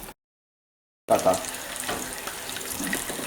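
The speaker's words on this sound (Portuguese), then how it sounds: "agora eu tô colocando um pouco de água para dissolver aquele açúcar" Water is poured into a hot pan of caramelizing sugar for a country-chicken galinhada, starting abruptly after a silent gap and rushing and sizzling steadily, close and fairly loud.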